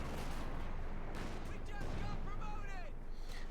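An artillery bombardment in Company of Heroes 2, during an OKW versus USF match. Dense, rumbling blasts roll on continuously, and thin whistling tones cut through near the end.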